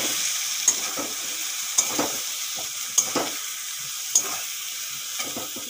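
Potatoes sizzle as they fry with spices in a pan, a steady hiss broken by regular scraping clicks of a spoon stirring about once a second, close and clear.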